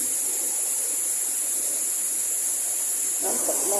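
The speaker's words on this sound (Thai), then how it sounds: "สวยงามของน้ำตกแม่กลางครับ" Mae Klang waterfall near Chiang Mai pours in a loud, constant rush of white water, with a brief voice rising faintly near the end.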